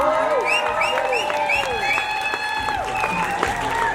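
Spectators at a barber battle competition applaud, with rising whistles and whoops from the crowd cutting over a bed of clapping and cheering.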